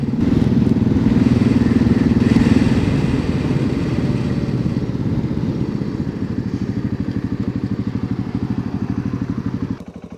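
A motorcycle rides through a modern town in Sonora, Mexico, its engine droning loudly at first, then settling into a steady pulsing putter as it slows toward idle near the end.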